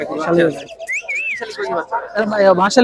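A myna (shalik) at a bird market in Fatullah, Bangladesh gives one brief, clear whistled call, rising and wavering, in a short pause between stretches of nearby talk.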